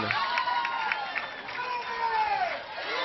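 A college softball crowd in a stadium during an Oklahoma vs Arizona game cheers after a home run, a steady wash of crowd noise with scattered shouts and whistle-like calls throughout.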